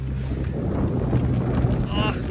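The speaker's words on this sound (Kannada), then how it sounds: "ಗಾಳಿನೂ ಹೊಡಿತಾ ಇದೆ" Wind buffets the microphone steadily on a rainy day at an outdoor spot near Mangalore, a dense continuous rumble and roar with no clear breaks.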